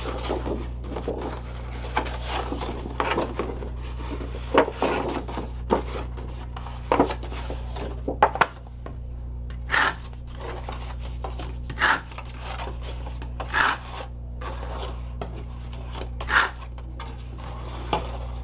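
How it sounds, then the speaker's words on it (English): Paper envelope being folded along score lines and burnished flat, giving a series of soft scraping rubs and crisp creasing taps, close and fairly quiet, with a steady low hum underneath and no talking. "For the envelope, we're going to fold and burnish along the score lines."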